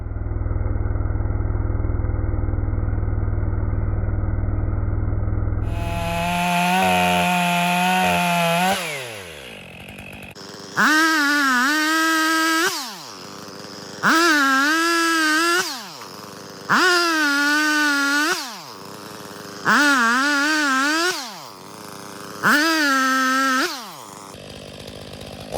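A Stihl MS 500i chainsaw idles and buzzes, then cuts wood in five loud, separate bursts, each rising to a strained high whine and dropping back to idle between cuts.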